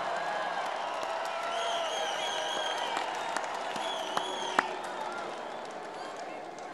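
A large crowd at a political rally inside the Phoenix Convention Center claps and cheers in a steady roar, with scattered whistles and shouts, while a voice carries over the noise.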